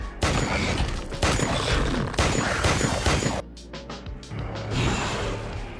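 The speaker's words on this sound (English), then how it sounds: "she fired a burst" A burst of rapid gunfire fired by a woman at a giant tree-like monster, dense cracking shots for over three seconds, then a series of sharper separate impacts and mechanical clatter, loud and close throughout.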